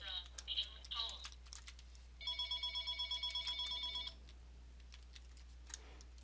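A phone rings with an incoming call, a faint electronic ringtone of rapid repeated trills lasting about two seconds. It comes after a few short chirps and plays over a steady low hum, with quiet clicks around it.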